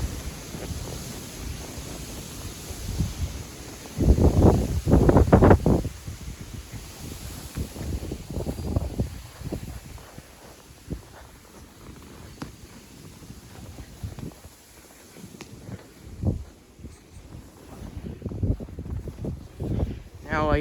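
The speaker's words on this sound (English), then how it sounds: "It's starting to get real windy" Strong wind gusts roar across a microphone outdoors at night in a New Jersey yard after a blizzard, swelling into loud buffeting bursts and easing between them, with a voice talking intermittently.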